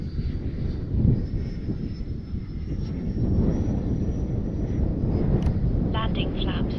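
An FMS 80mm F-86 Sabre RC jet comes in to land, its ducted-fan whine a steady, moderately loud roar mixed with wind buffeting across the microphone, with a person talking over it.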